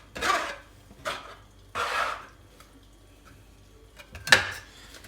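Tulum cheese is pounded for a bread filling, producing four separate muffled thumps and scraping bursts spaced roughly a second apart, fairly close, with quiet gaps between them.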